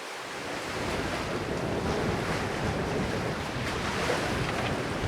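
Ocean waves and wind rush around a sailing boat at sea, a dense, continuous wash of surf and gusty wind buffeting the microphone, with no talk.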